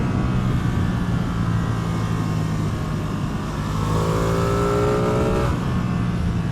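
A Ducati Streetfighter V2 or Yamaha MT-10 sport motorcycle rides hard through turns, its engine droning loudly and steadily, with a rising whine of revs building near the end.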